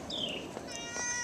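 A cat gives a short, close meow with a rising then falling pitch, followed by a second brief mew.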